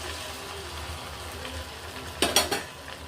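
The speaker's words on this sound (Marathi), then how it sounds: "आपण तेवढ्या तेलामध्ये सगळे वडे तळून घेतले" Medu vada made from semolina fry in oil with a soft continuous sizzle, then a short burst of stirring or clinking near the end.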